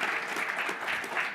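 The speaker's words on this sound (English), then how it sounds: "so everyone please give him a round of applause." Audience applause at an energy summit on partnering with Native American tribes, steady and full-bodied through the whole short stretch, a dense wash of clapping with no voices on top.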